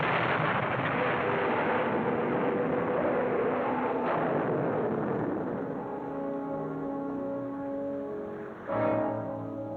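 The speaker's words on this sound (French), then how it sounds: "Attention, ça va sauter!" A bomb blast aboard a submarine in a 1960s science-fiction television series comes as a heavy, rumbling explosion that roars loudly and fades into a sustained low drone, with a dramatic musical sting near the end.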